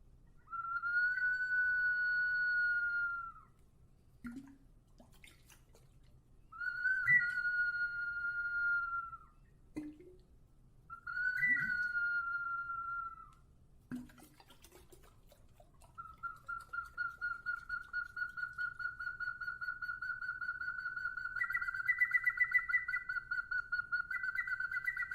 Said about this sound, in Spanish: También utilizaban silbatos, ocarinas, flautas, jarras silbadoras y raspadores de.